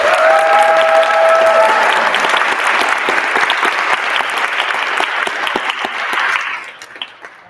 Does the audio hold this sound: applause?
yes